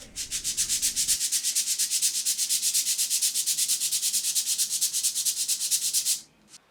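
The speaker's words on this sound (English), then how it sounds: "Now let's sand it down smooth." Steady back-and-forth sanding of a kumiko woodwork panel, close and loud with an even rhythmic rasp of about seven strokes per second, stopping abruptly near the end.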